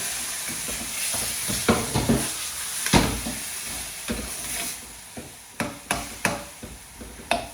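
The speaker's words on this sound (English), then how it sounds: "give it a bit of a stir" Chicken jalfrezi being stirred in a pan with watered-down passata, a steady run of scraping, clattering spoon strokes over a soft sizzle, with a few sharper knocks toward the end.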